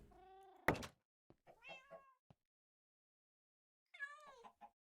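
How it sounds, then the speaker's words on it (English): A cat in the Minecraft video game meows in short synthetic cries, one at the start and another near the end, with a single thunk and a few small clicks between and silence around them. "Oh, there's a kitty here."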